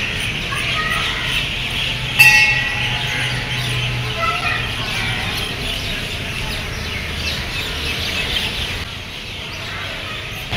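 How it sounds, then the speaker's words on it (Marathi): Birds calling from the trees in Saras Baug garden in Pune, scattered chirps and coos at moderate distance over a steady ambient hum, with a sharp brief chirp early on and people talking faintly in the background. "आणि पक्ष्यांचा आवाज पण तुम्ही ऐकताय."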